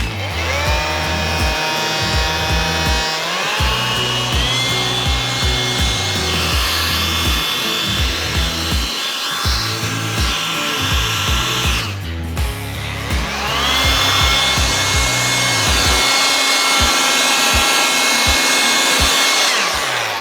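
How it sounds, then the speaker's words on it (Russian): An air blower running without its hose or nozzle, a steady loud whirring drone that dips briefly before spinning back up to full speed, with no voices. "Воздуходувка без шланга почему-то, без насадки"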